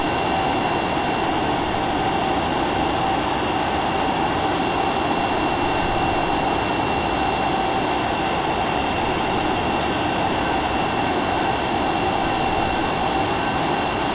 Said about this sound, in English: There we go, kick in the afterburner.